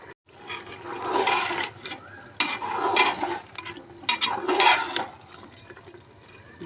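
Potatoes going into a pan and being stirred, heard as three bursts of wet scraping and sloshing with a soft sizzle, separated by short lulls.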